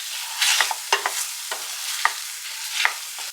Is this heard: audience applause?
no